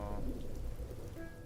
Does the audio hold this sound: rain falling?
yes